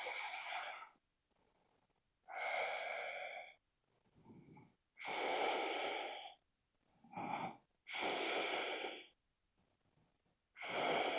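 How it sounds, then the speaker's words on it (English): Slow, deep breathing during a slow vinyasa yoga flow: long airy inhales and exhales, about five breaths with pauses between, close and fairly soft, no talking. "and breathe."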